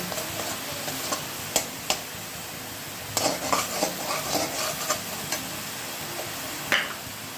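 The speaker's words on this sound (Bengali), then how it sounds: "জিনিসগুলি দিয়ে দিলাম তেলের মধ্যে, দিয়ে একটু ভাজা ভাজা করব" Garlic and coriander paste frying in hot oil in a pan for a spicy pabda fish curry, a soft steady sizzle broken by sharp scrapes and clinks of stirring, close and without talk.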